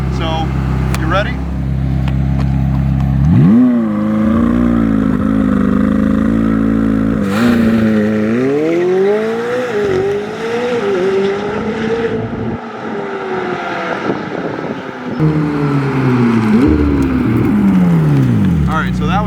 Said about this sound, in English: You'll start revving your engine, and it'll build up boost. You let go of the brake, and you're off.